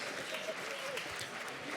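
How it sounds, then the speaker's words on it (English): A crowd at a community awards gala applauds a performance group, steady diffuse clapping at moderate distance, with a murmur of voices mixed in throughout the short burst. "Give them another round of applause."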